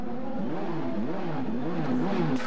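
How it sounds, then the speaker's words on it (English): IndyCar racing cars on wet-weather tyres roar down the main straight on a damp track, engines wailing and rising and falling in pitch as they pass, a steady loud drone throughout. "now the guys that are running on the wet tyres, they come down the main straightaway here"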